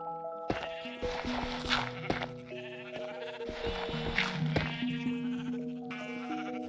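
Sheep in the game Minecraft bleat repeatedly in wavering, nasal calls, several overlapping cries over soft game music, fairly close and clear with no talking.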